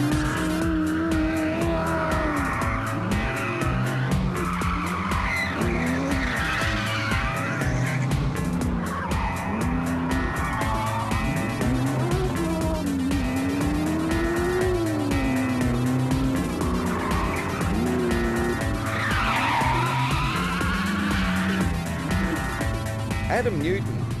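A 1965 Ford Mustang drifts at a rally event, engine roaring continuously with long squealing tire skids rising and falling throughout, loud and close, with a voice speaking over the driving.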